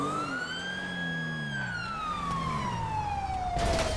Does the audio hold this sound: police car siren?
yes